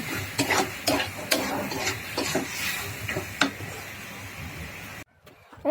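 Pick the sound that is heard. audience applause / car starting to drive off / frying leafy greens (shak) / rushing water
frying leafy greens (shak)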